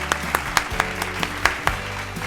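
A small group claps as a stand-in for absent fans after Ryu Hyun-jin's pitching for Toronto against the Yankees, a short round of several irregular, fairly close claps.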